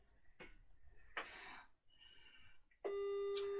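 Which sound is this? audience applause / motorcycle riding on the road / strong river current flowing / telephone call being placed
telephone call being placed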